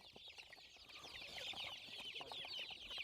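Chickens and roosters on a poultry farm cluck and chatter together, a busy overlapping flock heard at middle distance with no talk.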